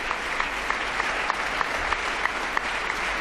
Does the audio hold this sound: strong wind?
no